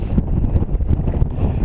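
Strong wind buffets across an exposed hilltop at Crookstone Knoll on Kinder Scout in the Peak District, a loud, continuous low roar of gusts battering the microphone.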